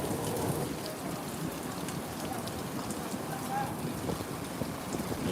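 Steady rain pours at Kolatoli Point on Cox's Bazar beach, heard from a restaurant rooftop, a dense continuous hiss and patter under low rumble, with no pauses throughout.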